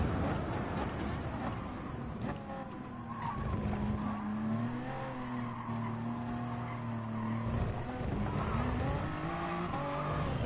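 A Toyota Supra Gr3 race car spins off at Spa-Francorchamps in GT Sport, tires squealing in long sustained skids over a droning engine note that dips and rises as the car loses grip.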